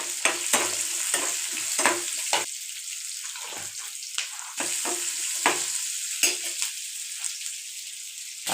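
Onion, garlic, ginger and tomato sauté in oil with cumin and lentils. A constant bright sizzle runs under repeated rhythmic spatula strokes and scrapes against the pan, close and fairly loud, with no voices.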